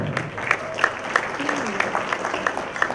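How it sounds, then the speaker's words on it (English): Applause at a conference session for the moderator, a steady patter of claps with some crowd murmur and a voice faintly heard beneath it. "a round of applause for the moderator of our second session"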